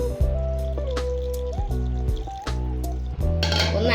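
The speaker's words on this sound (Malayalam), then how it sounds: "അതിലേക്ക് നമ്മൾ തേങ്ങയുടെ രണ്ടാം പാലൊന്ന് ഒഴിച്ചു കൊടുക്കാം" Second coconut milk pours into blended watermelon for a fireless payasam, a close trickling stream with a few breaks and small splashes, ending in a brighter, splashier gush.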